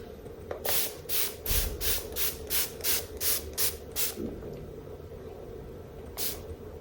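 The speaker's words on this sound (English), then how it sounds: "We'll do the setting spray first." Repeated short hissing sprays from a makeup setting spray pump bottle, about ten quick puffs in a row, then a pause and one final spray, close and clear.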